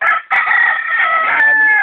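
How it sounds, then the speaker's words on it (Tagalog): A rooster on a farm lets out one loud, close crow lasting nearly two seconds, with a brief catch near the start and a drawn-out ending. "Ito po yung isa natin, manok."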